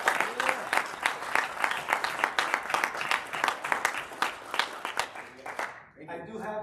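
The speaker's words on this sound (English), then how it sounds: "Give him another round of applause." A room of people applauds with lively, uneven clapping and a few individual sharp claps standing out, continuing for several seconds before fading and giving way to a voice at the end.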